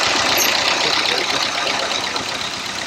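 A farm tractor's engine runs loud and close as it is put into gear, a steady broad rumbling roar that eases off slightly toward the end.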